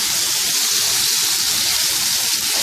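Boiled chana dal fries in a hot pan, a steady, loud, unbroken sizzle and hiss of oil and moisture with no voices.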